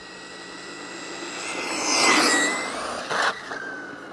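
An electric RC car on a 3S LiPo battery winds up to a rising high-pitched whine as the throttle is eased in, swelling loudly near the middle before a brief harsh burst and settling back.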